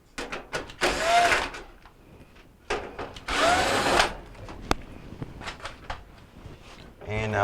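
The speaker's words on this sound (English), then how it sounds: "there's 3 screws that are going to hold the bracket for our control board in place. So we're just going to remove those 3 screws" A power drill backs out three screws from the control board bracket of a Whirlpool dryer, two loud whirring bursts of about a second each, close, with someone talking between them.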